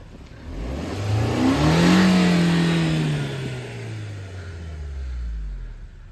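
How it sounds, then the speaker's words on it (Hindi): A car engine revs steadily as the car struggles up a snowy road near Solang Valley, Manali: one long, moderately loud rise and gradual fall in pitch over about five seconds, heard alone. "ज्यादा रेस ना दो भाई, ज्यादा रेस से नहीं होगा"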